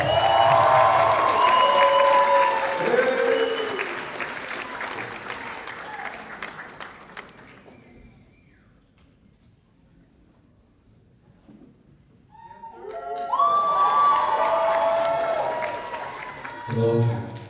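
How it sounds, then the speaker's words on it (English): Applause from an audience at a Filipino community cultural night honoring the tech director: a loud burst of clapping that fades to near quiet, then a second swell of clapping and cheers rises, with voices heard among the crowd. "Let's all give a big round of applause for our wonderful tech director, Justin Kim."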